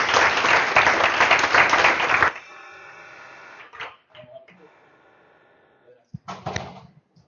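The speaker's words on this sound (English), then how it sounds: "let's give our speaker another round of applause" Applause from an audience for about two seconds, fairly loud, then it breaks off into quieter room noise and a few scattered bumps.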